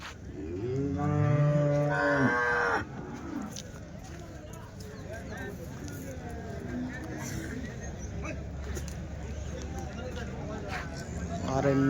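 Cattle mooing at a weekly Sunday cow market in Chintamani, loud drawn-out lows from a nearby cow in the first seconds, then a busy crowd of voices and market chatter with fainter animal calls throughout.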